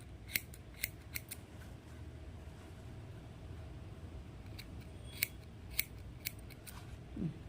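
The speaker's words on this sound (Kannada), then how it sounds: "ಎಲ್ಲ ಥ್ರೆಡ್ನು ಸೇರಿಸಿ ಟ್ರಿಮ್ ಮಾಡ್ಕೊಳ್ಳಿ, ನೀಟಾಗಿ ಬರುತ್ತೆ." Scissors trim gathered crochet threads on a beaded saree tassel: a few crisp, close snips scattered irregularly over a quiet, low background rumble, with no one talking.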